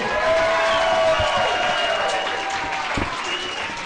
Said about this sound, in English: So everybody give Luna Vachon a cheer. Come on, make some noise for Luna.